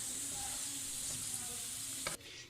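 Onions frying golden brown in hot oil give a close, continuous sizzle with occasional stirring scrapes, then a sharp clink as the frying quiets near the end.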